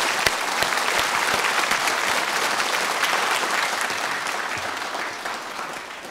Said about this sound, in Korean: 다시 한번 수상자 여러분께 박수를 보내주실 것을 제가 제안합니다